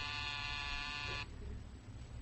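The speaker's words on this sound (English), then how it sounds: "There's the door buzzer." A door buzzer in an old comedy radio scene sounds once, a harsh, faint, evenly pitched electric buzz lasting about a second before cutting off into a low background hum.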